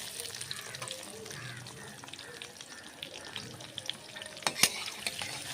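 Chopped onion dropped into oil with cumin and whole garam masala, sizzling softly up close with stirring scrapes and a sharp metallic clink near the end, fairly quiet overall with no speech.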